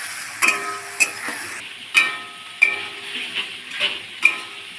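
Chicken and spices are stirred in a frying pan, spatula scrapes landing in an irregular rhythm over a steady sizzle, close by with no talking.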